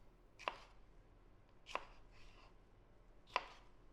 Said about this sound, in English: Just slice up these jalapenos.